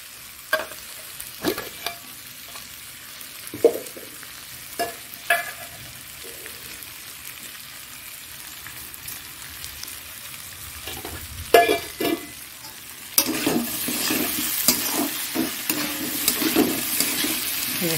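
Taro curry with prawns and tomato is stirred in a pan, with irregular scraping knocks over a soft sizzle that swells into a louder, steady frying hiss near the end, no voices.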